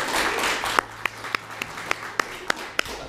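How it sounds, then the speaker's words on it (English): At a film festival Q&A, an audience applauds a makeup and prop maker; a brief burst of dense clapping quickly dwindles to a few sharp, evenly spaced single claps. "so please give her a big round of applause."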